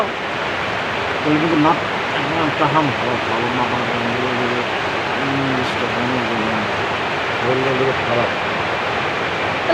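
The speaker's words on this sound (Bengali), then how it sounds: "বাইরে এত ঝুম বৃষ্টি নেমেছে" Heavy rain pouring outside, a dense, loud, unbroken hiss filling the whole stretch, with a person talking intermittently over the downpour.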